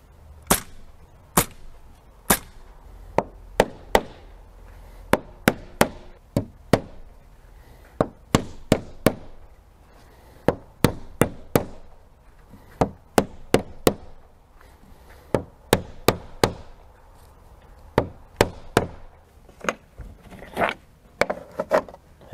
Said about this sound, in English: then I come back with a hand nailer and finish it off.